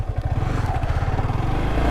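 Yamaha R15 V3 motorcycle engine running steadily on a test ride after a major service, a close, continuous low thrumming with regular firing pulses and no talk.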